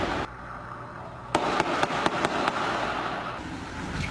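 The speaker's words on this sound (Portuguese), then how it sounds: "Por este vídeo dá para ouvir vários tiros." Gunshots fired by criminals at a military police platoon near a city hall in Brazil ring out as a burst of several sharp cracks in quick irregular succession, heard at a distance over steady outdoor background noise.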